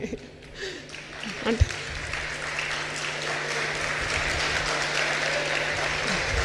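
An audience at a church sermon claps, building from scattered hands into sustained applause, with a voice speaking over the start.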